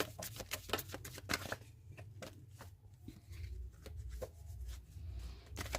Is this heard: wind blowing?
no